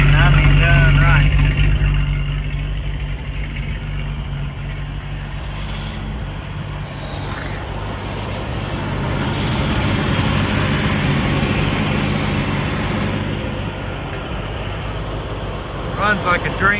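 A restored 1982 Jeep Scrambler CJ8 with a 4.2 litre engine and five-speed idles in a steady low rumble, while someone talks over it throughout.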